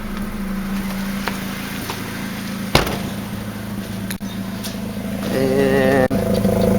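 A Honda D16Z6 engine with a Buddy Club Spec D exhaust idles steadily at a low rumble, with a sharp click partway through and a brief surge in the last seconds, heard close with no talk.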